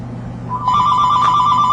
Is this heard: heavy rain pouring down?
no